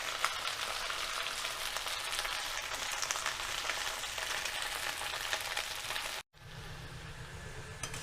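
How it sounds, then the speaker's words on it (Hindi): Whole okra (bhindi) frying in oil on a high flame, a steady, close crackling sizzle that runs continuously for about six seconds, cuts out briefly, then returns as a softer hiss. "मैं इतनी ऑयल में पूरी भिंडी को डाल दूंगी। इसको हाई फ्लेम पे करना है।"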